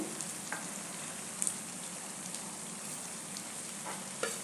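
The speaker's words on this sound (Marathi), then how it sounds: "मी हे व्यवस्थित भाजून घेते आणि तुम्हाला दाखवते" Leftover-rice vegetable cutlets shallow-fry in a pan, making a soft, even sizzle with a few faint pops, quiet and steady, with no speech.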